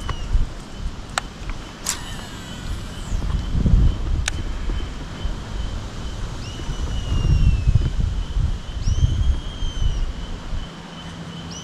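Steady outdoor wind rushing and buffeting the microphone beside a river, with low rumbling gusts, faint rustling and a few distant chirps over about twelve seconds.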